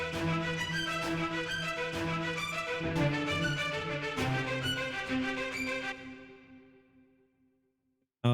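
A lush, dense Novo strings sample layered with processing and a sidechained pulse swells steadily, then thins and rings out into a fading tail near the end, with no voice.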